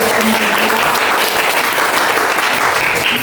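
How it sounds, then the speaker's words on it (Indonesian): Loud, close applause from an audience at an Islamic religious gathering, a thick continuous burst of clapping lasting a few seconds with faint crowd murmur beneath. "Ya, kasih tepuk tangan."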